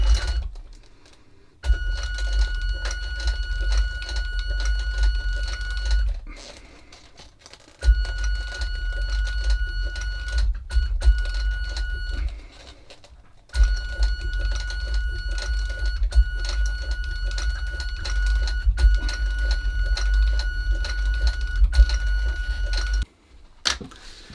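Sewing machine stitching the lining of a shoe upper in three long bursts of steady, rapid mechanical whirring, with brief quiet pauses between runs; no talking.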